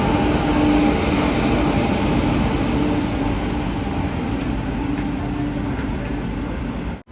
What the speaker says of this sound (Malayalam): ഇവിടെ 2ാം നമ്പർ പ്ലാറ്റ്ഫോമിലേക്ക് കണ്ണൂർ യശ്വന്ത്പൂർ എക്സ്പ്രസ് കടന്നു വരികയാണ്